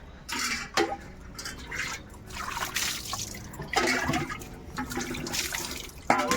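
Water poured over someone bathing, splashing and trickling in uneven bursts with dripping between pours, close and moderately loud, no talk.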